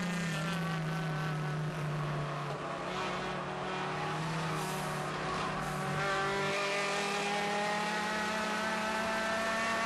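A touring car races in a US Touring Car Championship, its engine screaming at high revs and stuttering against the rev limiter, a sustained loud whine heard from trackside with no one talking.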